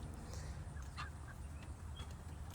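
A few chickens clucking faintly in a backyard coop, soft scattered calls over a steady low rumble of outdoor wind and rain.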